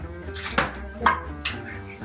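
A supermarket can of peeled tomatoes is opened in a home kitchen, giving three sharp metallic clicks and scrapes close by, spaced about half a second apart, over a low background hum.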